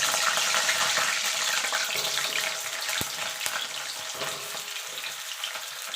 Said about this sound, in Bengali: এবার গাটি কচুগুলোকে আমি ভেজে নেব।